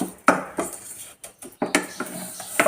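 Vermicelli dry-roasted in a pan for semiya khichdi, a spatula scraping and tapping the metal in short uneven bursts with quiet gaps between strokes.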